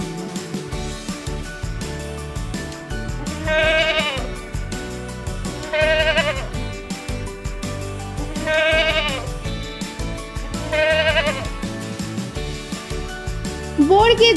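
A young goat kid bleats four times in wavering, nasal cries spaced a few seconds apart over a bouncy children's song accompaniment.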